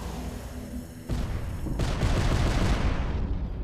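A torpedo launched from a nuclear submarine in the UnMetal video game gives a dense, rumbling burst of booming gunfire-like noise. It starts at about one second and builds into a sustained roar through the end, with game music faint underneath.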